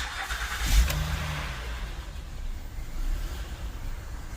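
A cold 3.5L Honda Pilot engine cranks, catches with a short burst and settles into an uneven, hesitating idle that dips and surges. It is heard up close, with no talking.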